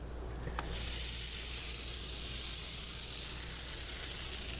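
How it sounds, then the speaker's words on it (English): Rice frying for fried rice on a camper stove, a loud, continuous sizzle and hiss that starts abruptly and holds steady, close up with no talking. "I'm going to start with the fried rice now."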